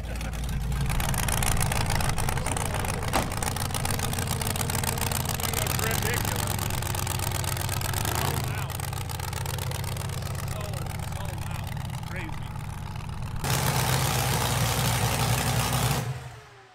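A cammed 4.8L LS burnout truck engine runs on a dyno while being tuned on a Holley Terminator X, a loud sustained drone that holds steady and then rises again near the end, with people talking over it.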